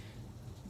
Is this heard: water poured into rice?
no